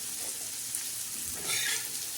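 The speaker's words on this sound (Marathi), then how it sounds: "सुकटाची चटणी आता आपण तळूया." Dried fish (sukat) chutney fries in hot oil with a steady, soft sizzle. A brief, brighter crackle flares up near the end, and no one speaks.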